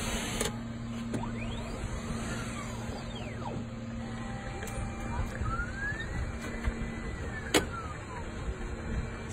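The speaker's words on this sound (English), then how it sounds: "Steering wheel disappears." Electric motor whine as the steering wheel retracts into the dashboard of a Peugeot e-Legend concept car: rising and falling whirring sweeps over a steady cabin hum, with a sharp click near the end.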